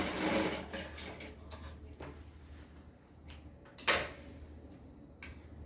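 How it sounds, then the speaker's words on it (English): A sewing machine stitches a half-inch shoulder seam on a rope gown, heard as faint, brief bursts of running and clicking over a low steady hum. "The next thing I'm doing is to sew on 1/2 inch at the shoulder area."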